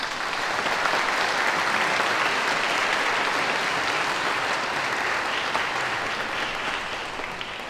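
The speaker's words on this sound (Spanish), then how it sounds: "un aplauso a todos ellos" A church congregation at a Spanish-language Mass applauds the first communion children, a full, sustained wash of clapping from many people that holds steady and eases slightly near the end.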